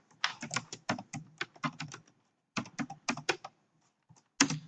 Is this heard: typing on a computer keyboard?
yes